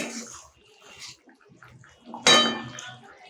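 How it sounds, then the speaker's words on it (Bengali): A metal lid is lifted off a simmering pot of katla fish curry, a short clattering scrape and clink that rises sharply near the end over soft bubbling and kitchen noise. "ঢাকাটা উঠিয়ে নিচ্ছি"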